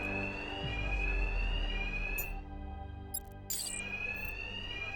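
An alarm in the video game Batman: Arkham Knight rings with a steady high-pitched tone, cutting out briefly midway before resuming, with a low rumble underneath and no talk.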